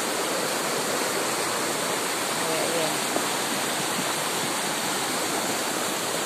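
Floodwater pours behind a house in heavy rain, a steady loud roaring rush like a waterfall that runs unbroken and close throughout, with no talk over it.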